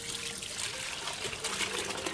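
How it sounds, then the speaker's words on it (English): Chicken pho broth is poured from a pot through a strainer to catch the vegetables, a steady close trickling splash of liquid that runs on without a break. "we're gonna pour this back, and basically we're straining it now"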